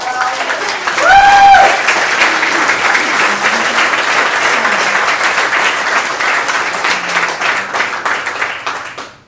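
A crowd at a rowing nationals event cheers and applauds in a loud, steady roar that holds for several seconds and slowly fades at the end. A brief whistle rings out near the start.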